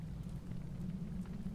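Steady rain falls in the Secret Files: Tunguska adventure game, a continuous soft hiss and patter with a low rumbling bed, moderately quiet and unbroken.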